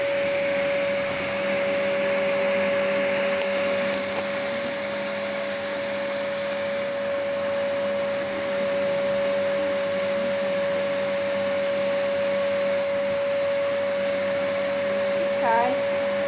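A Henry vacuum cleaner draws in honey bees during a bee removal, making a constant loud motor drone and airflow hiss with a steady high whine, while people talk quietly underneath.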